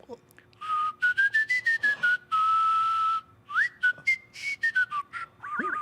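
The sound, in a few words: whistling with the tongue, no lips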